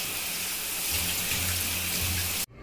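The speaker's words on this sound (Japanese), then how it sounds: "シャワーで流そう。" Shower spray rinsing off hair removal cream, a loud steady hiss of running water close by that cuts off abruptly near the end, with no talking.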